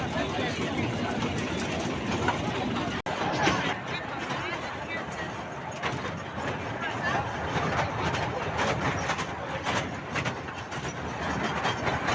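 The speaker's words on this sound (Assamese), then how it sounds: "ইয়াৰ পৰা অকণমান দূৰ আমি টয় ট্ৰেইনত যাম।" A steady rolling rumble with faint rhythmic clatter from the toy train at Elephanta Caves, near and continuous, with crowd chatter mixed in underneath.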